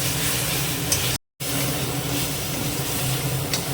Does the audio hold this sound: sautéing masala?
yes